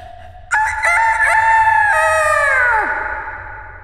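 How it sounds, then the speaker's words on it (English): A single rooster crows in the video game That's Not My Neighbor, one loud, clean, drawn-out cock-a-doodle-doo that rises and then bends down at the end, with no background noise. "Rooster."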